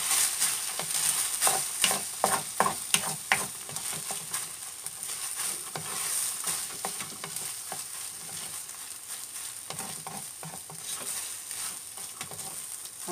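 Rice tossed with ketchup in a hot pan for omurice sizzles steadily while a spatula scrapes and stirs in quick irregular strokes, close and moderately loud, with no talking.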